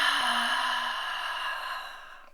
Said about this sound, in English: full exhale out